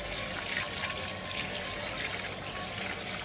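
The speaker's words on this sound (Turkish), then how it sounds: "Bunu güzelce yıkayacağız. Şöyle kandan arındıracağız bir miktar." Chopped Albanian-style liver, membrane and sinews removed, rinsed under a steadily running kitchen tap, a continuous close splashing of water filling and draining in the sink with no talk.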